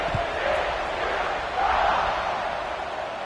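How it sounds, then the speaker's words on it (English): A large football stadium crowd at a college game between Florida and TCU keeps up a steady, loud buzz of cheering and chatter just after a touchdown and extra point, a dense wash of voices with slight swells. "this crowd is buzzing after that last score"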